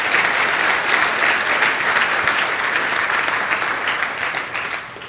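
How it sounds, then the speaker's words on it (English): Audience at a talk on attraction giving a round of applause, a dense, loud, even roar of many hands clapping that holds steady and then begins to fade near the end. "Give them a round of applause."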